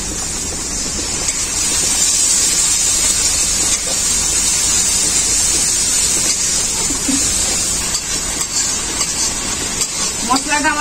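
Ground cumin, coriander and black pepper sizzle in a pan after a little water is added, making a steady, loud, continuous hiss throughout, with a voice speaking over it.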